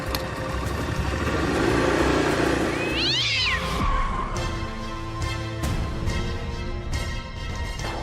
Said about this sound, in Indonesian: Itu tadi kucing lewat Mbak.